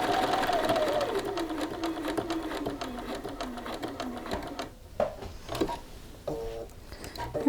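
A sewing machine runs in quick steady bursts stitching a shirt cuff, rotating to sew across the short edge, the motor whirring with rapid needle ticks, then stopping and restarting in short runs.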